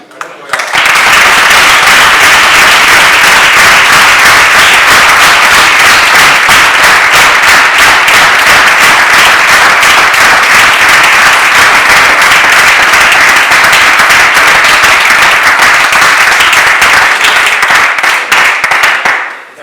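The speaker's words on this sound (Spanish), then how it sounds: "Fuerte aplauso." An audience applauds at the presentation of the book "Hay algo que quiero contarte". The clapping is loud, dense and sustained for the whole stretch, from a full room of hands, with no voices on top.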